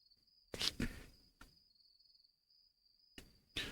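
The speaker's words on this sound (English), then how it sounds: "I listen hard, trying to hear anything above the crickets." Crickets chirp at night in a visual novel game, a steady high trill running through the whole stretch, interrupted by a few louder, brief rustling bursts.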